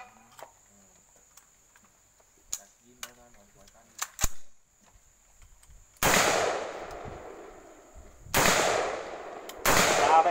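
A police officer fires a gun at 25 yards in a standing shooting demonstration. Three loud, sharp shots ring out with ringing echoes, preceded by quiet clicks and handling noises.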